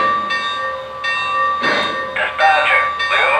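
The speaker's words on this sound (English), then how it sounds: "The bell will turn on and the engine will begin moving." A Lionel Legacy Milwaukee Road S-3 model locomotive rings its bell in a steady repeating pattern of bright metallic strikes, close and clear, with a faint engine hum underneath and radio-style voices briefly over it.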